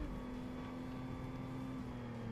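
A steady, droning engine note from a car in Forza Motorsport, a D class car whose sound shifts with its exhaust setup, holding a constant pitch at moderate level with no talk over it.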